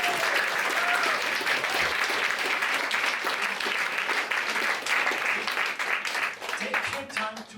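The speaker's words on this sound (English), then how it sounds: "you get your applause for it" Sustained audience applause fills a science slam hall in Villach after a talk on breast cancer survival, dense and steady for several seconds before thinning out toward the end, with a few voices mixed in.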